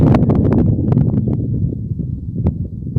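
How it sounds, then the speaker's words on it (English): Gusty wind buffeting outdoors with low rumbling and a few sharp rustling clicks, fairly loud and continuous. "Still a bit windy"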